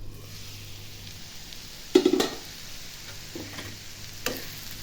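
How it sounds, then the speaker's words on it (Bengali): Shredded cabbage stir-frying in a pan gives a soft, steady sizzle, with a few sharper clattering stirs partway through and again near the end; no one speaks. "তো বাঁধাকপিটা দিয়ে দিছি দেখুন।"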